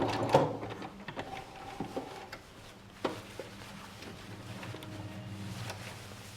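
A sewing machine backstitches heavy webbing for a dog toilet hammock, running in a low steady hum broken by a few short clicks and knocks, fairly quiet and close with no talking.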